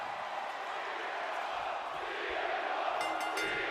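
A wrestling arena crowd roars and yells for CM Punk as his match with Gunther gets underway, a broad, sustained wash of cheering that swells slightly near the end.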